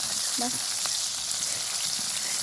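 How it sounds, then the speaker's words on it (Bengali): Fish roe fries in hot oil in a pan, making a loud, continuous, hissing sizzle that holds steady throughout, with no voices. "মাছের ডিম বাজা হইতেছে"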